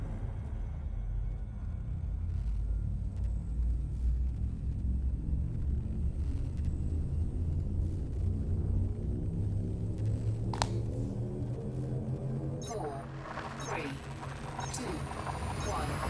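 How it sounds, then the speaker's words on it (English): A spaceship's frameshift drive charges in a space video game, a steady low rumbling drone with rising tonal sweeps that climb toward a sharp surge near the end. "Frameshift drive charging."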